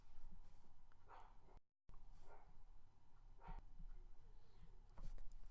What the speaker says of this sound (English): If you can hear my dog barking in the background